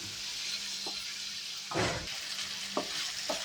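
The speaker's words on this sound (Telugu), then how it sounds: "ముందుగా కట్ చేసి పెట్టుకున్న 2 టమాటా ముక్కలను వేయాలి. ఇప్పుడు దాన్ని కలపాలి." Tomato pieces frying in a pan for a tomato cauliflower curry, a continuous close sizzle broken by a few stirring scrapes, one longer and louder than the rest, with no talking.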